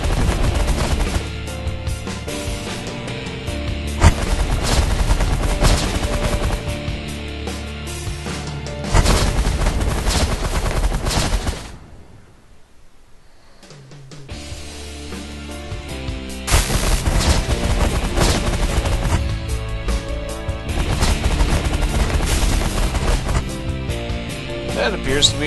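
Spaceship weapons firing in The Last Federation space strategy game: sustained rapid barrages of blasts and booms, loud and continuous, dropping out briefly in the middle before resuming over music-like game audio.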